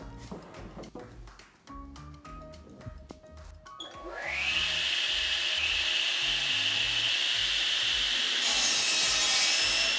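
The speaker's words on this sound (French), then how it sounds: "On va passer au sciage avec la scie à deux têtes." Knocking and clattering of wood, then a double-head saw cuts lengths of wooden wine-rack cradles with a loud, steady, high-pitched whine that keeps going to the end.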